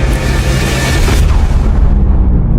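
A time-fused bomb explodes beneath a stage, bringing down the roof above it: a loud, dense roar of blast and rumbling debris that holds steady for a few seconds with no voices.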